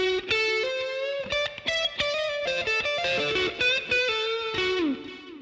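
Electric guitar with distortion plays a lick slowly, a run of picked single notes and a slight bend, each note distinct and sustained, close and alone.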